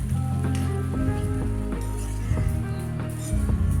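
Fish sizzling in a pan of curry base with metal ladle clinks as it is stirred; steady close frying hiss with intermittent scraping taps, no voices.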